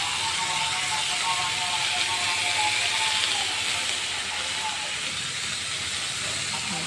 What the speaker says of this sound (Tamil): நல்லா வதங்கட்டும் தக்காளி நல்லா கிரேவி மாதிரி வதங்கட்டும்